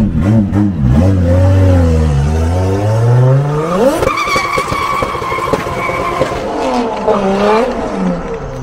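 A speed car races past loudly, its engine note sweeping up and down through gear changes while tires squeal and skid, close and intense.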